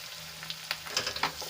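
Chopped capsicum dropped onto onions frying in a pan, a close sizzle with several quick crackling spits and stirring scrapes over a steady low hiss, no voices.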